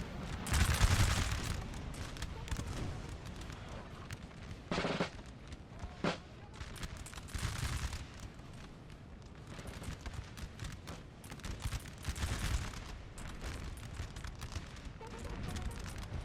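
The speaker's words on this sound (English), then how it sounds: "Their line's just getting hit by artillery constantly" Artillery and musket fire in a Napoleonic Total War 3 battle: repeated booms and crackling volleys, some near and loud, others distant, go on throughout.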